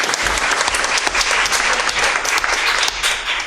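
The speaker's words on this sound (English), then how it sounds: "Okay, we'll clap." Audience clapping at a board of education meeting honoring a state high jump champion, a loud, dense burst of many hands applauding steadily for a few seconds.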